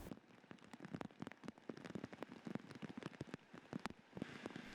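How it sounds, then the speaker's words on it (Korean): Rain falls on flooded rice paddies, a dense, steady patter of drops with many sharp individual splashes, close and continuous throughout. "비가 내리자 논에 빗물이 스며들고 점차 물이 불어납니다"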